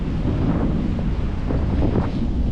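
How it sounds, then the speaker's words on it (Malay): Steady, roaring wind near a bridge buffets the microphone with a constant low rumble, loud and unbroken throughout. "Angin kuat."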